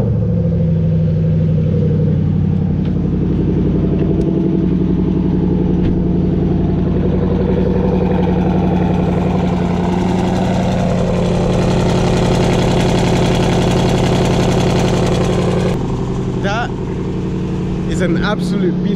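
A Range Rover SVR engine idles loudly with a deep, steady, continuous rumble that stays close and dominant throughout.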